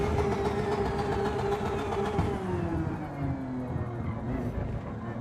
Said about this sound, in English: Listen to this downshifting.